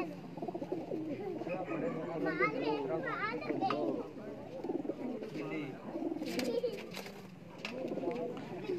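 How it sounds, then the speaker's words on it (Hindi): Pigeons coo in soft, repeated throaty calls among other chirping birds, while people talk nearby and children's voices sound in the background. "ये माशाल्लाह क्या आवाज, चैंपियन कबूतर है।"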